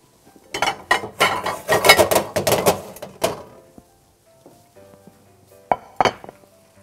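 A utensil scrapes and clinks against a cooking pot while yellow rice with vegetables is scooped out, a busy cluster of close metallic clinks followed by quieter pauses and a couple of sharp knocks.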